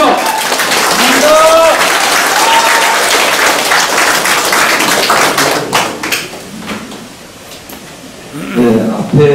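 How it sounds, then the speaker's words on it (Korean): An audience at a campaign office opening applauds to welcome a Jecheon city council candidate. The loud, dense crowd clapping lasts about six seconds, then fades into quieter sparse claps and voices. "큰 박수로 환영해 주시죠"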